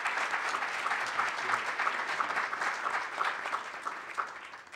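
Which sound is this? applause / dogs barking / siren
applause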